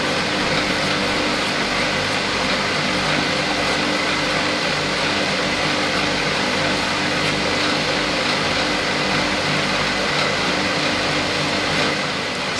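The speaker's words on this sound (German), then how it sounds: "Jetzt halten wir die Maschine an, gehen auf die zweite Stufe und los geht's." A dough mixer kneading Neapolitan pizza dough on its second speed, a steady continuous motor drone with mechanical whir, loud and unbroken throughout with no talking.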